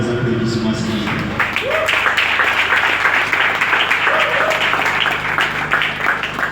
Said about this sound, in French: Nos applaudissements significatifs.